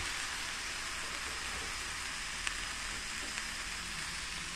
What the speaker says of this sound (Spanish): Y vamos a ponerle por aquí el chorizo.